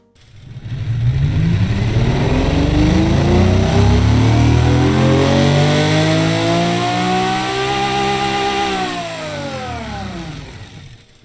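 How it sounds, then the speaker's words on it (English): An Italian 4.9 liter V12 car engine in the Automation video game revs up steadily from idle to a high, smooth wail, then drops back down, loud and alone. "It sounds like a V12"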